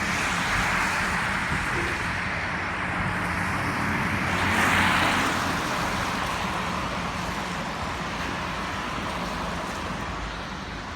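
Steady roadway traffic noise in a Wrexham street, a continuous broadband rumble of cars, buses and trucks going past, swelling briefly midway as a vehicle passes close, with no voices audible.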